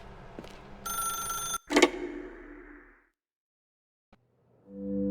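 In the video game The Stanley Parable, a telephone bell rings once in a short, bright burst, then fades into silence before a low tone begins at the end.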